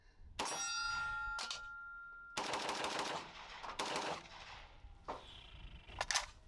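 Zastava M70 rifle shot outdoors through a 30-round magazine, loud sharp rounds in spaced single shots and short strings, with a metallic ring from a struck steel target between them.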